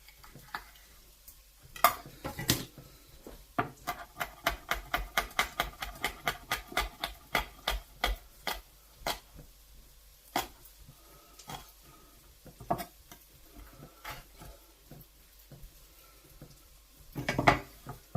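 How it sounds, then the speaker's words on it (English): A knife chops ingredients on a cutting board for a beef in black bean sauce and vegetable stir fry, with rapid, steady, close chops that thin out into scattered cuts and a final loud cluster, and no talking. "Just chop this up."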